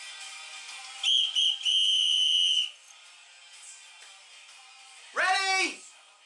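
A referee-style whistle is blown to start a crowd chant at a theatre show, giving a short blast then a long steady shrill tone, followed by a rising-falling warbled blast a few seconds later, with faint room ambience between.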